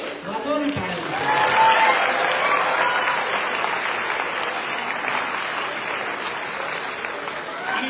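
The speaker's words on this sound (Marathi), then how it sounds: "वाजवून टाळ्या." An audience at an inspirational speech applauds, a full, sustained roar of clapping that swells early and then holds steady to the end, with a voice briefly audible at the start.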